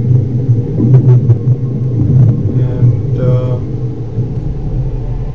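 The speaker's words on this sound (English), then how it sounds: "You can hear the thunder." Deep, low thunder rumbles continuously, loud and heavy, with a few faint higher crackles passing over it.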